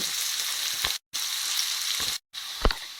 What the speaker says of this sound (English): Let those onions cook through before we add some spice to this.